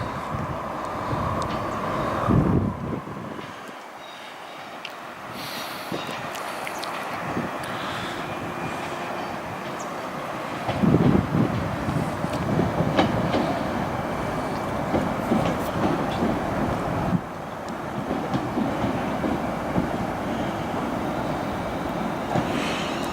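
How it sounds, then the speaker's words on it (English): A train passes on a railway line near Lidlington and Flitwick, a rumbling, rushing sweep of carriages rising and falling over twenty seconds with wind and clatter, heard from trackside without talk. "Again, this is not our train either, because we're going south."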